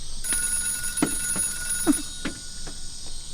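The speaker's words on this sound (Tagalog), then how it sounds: "Ang kirkiring ti telepono." A telephone rings in a dramatic scene with a bell-like electronic trill, followed by several soft knocking taps while a steady high tone hangs in the background.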